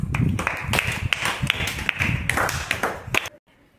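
Children in a classroom clap together in a rapid, slightly uneven burst of sharp claps, close and loud, stopping abruptly after a few seconds; no talk.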